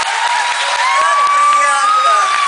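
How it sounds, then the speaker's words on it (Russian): Theater audience at a KVN comedy show cheering and applauding loudly and continuously, a dense crowd roar with rising whoops throughout. "Стоять и ждать, пока нас не обсыпят овации"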